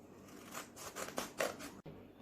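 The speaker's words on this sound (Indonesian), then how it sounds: "kita gunting" Scissors cutting folded paper, with a short run of soft, crisp snips that come in a steady rhythm, close and fairly quiet, before a brief pause.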